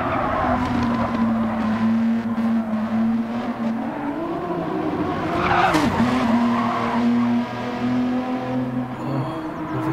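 Race car sliding sideways through the final corners in Gran Turismo 7 at Alsace Village, a sustained engine drone with rising tire squeal and skidding screech swelling midway, alone without voices.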